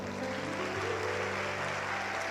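A church congregation applauds during a service on miracles, dense steady clapping from many people filling the room, with a low tonal hum beneath and no speech.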